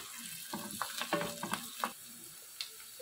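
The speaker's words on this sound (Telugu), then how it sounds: "దీంట్లో మనం సన్నగా కట్ చేసుకున్న పచ్చిమిర్చిని వేసుకోవాలి అలాగే నాలుగైదు రెమ్మల కరివేపాకును కూడా వేసుకోవాలి మొత్తం ఒకసారి బాగా కలపాలి" Chopped green chillies and curry leaves frying in a pan for a bean curry, with a short burst of crackling, sizzling and stirring scrapes that fades after a couple of seconds.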